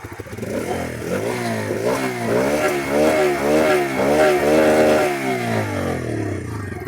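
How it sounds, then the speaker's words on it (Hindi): Bajaj Freedom 125 CNG motorcycle running in CNG mode, its engine revving up and down in repeated rising and falling swells, loud and close, with no talk over it. "तो भाई ये जो है सीएनजी मोड से इसका साउंड है।"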